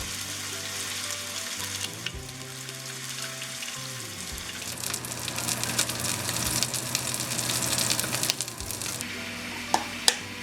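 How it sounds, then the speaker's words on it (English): Salmon fries in oil in a pan, sizzling and crackling steadily, with a low background tone and a few sharp clinks near the end. "Heat oil in a frying pan and cook the salmon."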